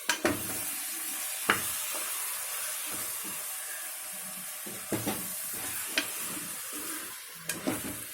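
Mutton sizzles and hisses steadily in a hot pan, with a few sharp clicks and scrapes as it is stirred.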